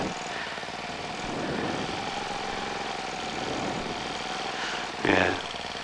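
A four-stroke paramotor engine idles with a steady droning hum, swelling slightly at moments, with a brief sharper burst near the end.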